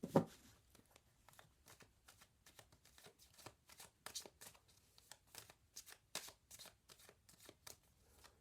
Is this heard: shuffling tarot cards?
yes